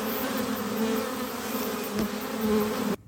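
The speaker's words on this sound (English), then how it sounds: "Oh, there's bees in the house." Bees buzz in a house in New Zealand in summer, a steady close drone with a wavering pitch that runs continuously for about three seconds and then stops abruptly.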